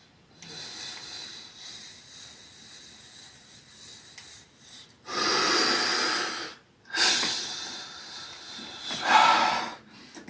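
Heavy, rasping breaths come in long, loud, close bursts during a Bullworker exercise workout, separated by short quiet gaps.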